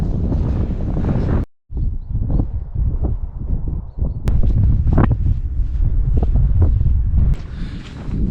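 Strong wind buffets the microphone on an exposed limestone hilltop at High Wheeldon, roaring in loud, gusty rumbles with brief lulls and a short sudden dropout early on.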